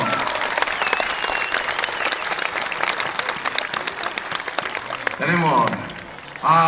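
Crowd at a dwarf bullfighting show in San Miguel de Allende breaks into loud, sustained clapping with sharp individual claps, while voices and a shouting announcer rise over it near the end.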